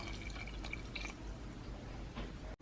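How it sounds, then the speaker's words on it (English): A quarter cup of water pours steadily into a mixing bowl of brownie batter ingredients with a soft, continuous splashing hiss, close by and fairly quiet. "We're going to add 1/4 cup of water."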